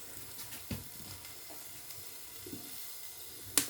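Oil sizzles quietly in a pan over chopped onions while a meal is cooked, a low hiss with a few soft clinks and one sharp scrape at the end.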